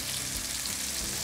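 Sausage browns in a pan for white bean soup, giving a dense, even, close sizzle with no pauses.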